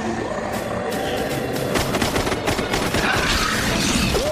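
Gunfire from a film firefight crackles as a dense, continuous fusillade of shots and impacts, loud and close, with no clear pauses across the stretch.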